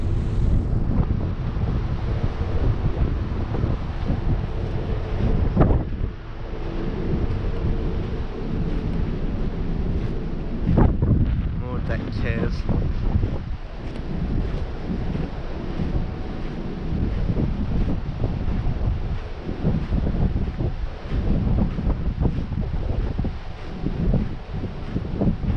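Strong wind and open-ocean waves heard from the deck of the P&O Ventura cruise ship, a continuous loud rushing roar with heavy wind buffeting on the microphone and no speech.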